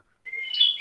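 A pet canary gives a short, thin chirp, clear and fairly close, heard alone after a brief silence.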